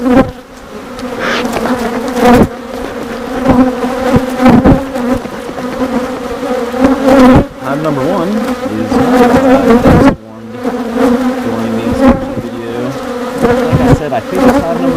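Honeybees swarm around an open hive during a beekeeping inspection, producing a loud, dense, continuous buzz close by with wavering drones of many insects throughout.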